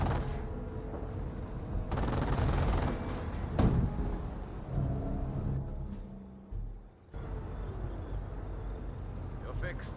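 A hull-mounted machine gun fires in a Company of Heroes battle, with dense, continuous bursts of rapid gunfire and rumbling engines across the clip. Other battle noise mixes in, and a voice talks over parts of it.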